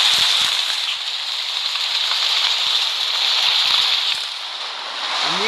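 A rain sound from a kalimba meditation phone app: a steady, dense hiss of rain falling, loud and close, with occasional heavier drips tapping through the wash of sound.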